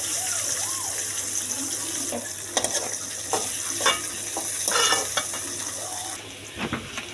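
Chopped onions hiss and sizzle in a very hot wok that earlier fried fish for a fish curry, with stirring scrapes and clanks of a utensil against the pan.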